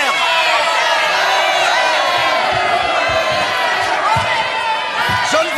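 A large crowd roars, cheers and shouts in acclaim, loud and continuous with many voices overlapping and no pauses.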